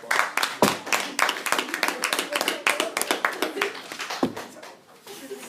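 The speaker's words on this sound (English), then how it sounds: "Let's give them a round of applause." Audience applause for the panelists at a panel on the 2nd Amendment and the Left: a short burst of scattered hand claps that thins out near the end, with voices talking over it.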